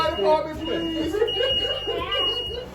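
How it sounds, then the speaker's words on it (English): A high-pitched kitchen smoke alarm sounds a steady, piercing tone during cooking while people talk and laugh over it nearby. "we have very sensitive smoke detectors."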